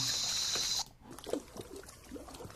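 Trickling water on a subliminal message recording, a steady bright flowing sound that runs for under a second, then cuts off abruptly into quiet with faint low murmurs and soft scattered noises.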